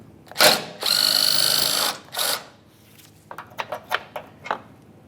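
A power driver backs a T40 Torx screw out of a Ford Transit Connect front end, with a short whir, a longer steady spin and another brief burst, followed by light clicks and handling taps up close.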